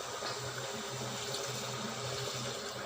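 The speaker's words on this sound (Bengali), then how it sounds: "আমি পানি দিয়ে দেবো।" Water pours steadily into a cooking pot of fish and Malabar spinach curry, a constant rushing splash heard close and without pause.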